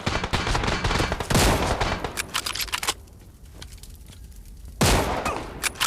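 Rapid bursts of gunfire in the BGMI battle royale game, loud and dense with sustained volleys and brief gaps between sharp shot clusters.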